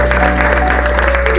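Church congregation claps during a worship service, a short burst of steady applause under a sustained low hum and a held tone from sound equipment.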